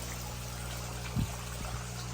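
A small aquarium aerator air pump bubbles water in a steady, low, continuous gurgle, with one slightly louder burst of bubbles partway through; nearby and fairly quiet, with no voices.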